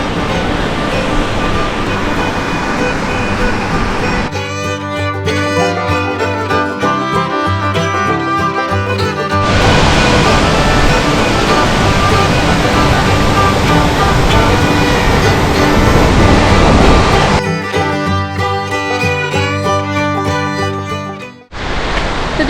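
A waterfall along the Appalachian Trail roars as a loud, steady rush of falling water, broken by stretches of music, with no talk.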